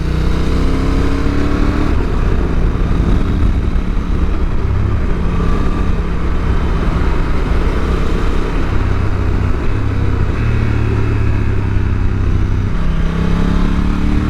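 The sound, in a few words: Honda NT1100 motorcycle riding, downshifting with quick shifter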